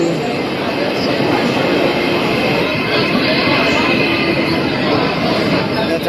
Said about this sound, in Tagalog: The train is coming.